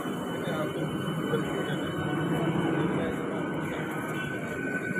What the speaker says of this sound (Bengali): আর ট্রেনটা অন্য সমস্ত যাত্রীদেরকে নিয়ে শিয়ালদার দিকে রওনা দিল